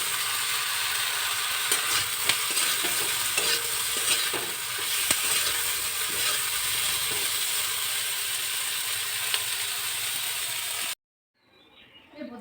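Eggplant frying in oil in a pan gives a steady, loud sizzle with scraping and clicking from stirring, then stops abruptly near the end.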